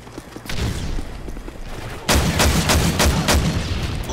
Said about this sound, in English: what the freak is that gun? Like an auto shotgun?